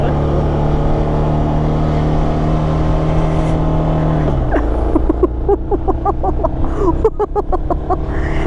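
Suzuki DR650 motorcycle carrying two riders, the engine droning steadily and loud, then dropping pitch and labouring unevenly with bursts of wind and road noise.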